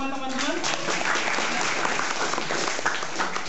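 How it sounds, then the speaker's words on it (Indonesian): A meetup crowd breaks into sustained applause, dense and even throughout, with a voice briefly audible at the start. "Kita kasih tepuk tangan dulu buat semua teman-teman."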